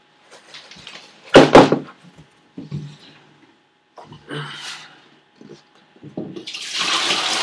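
Water splashes and pours into an aquaponics tank in short bursts with clunks and gaps between, ending in a steady rushing pour.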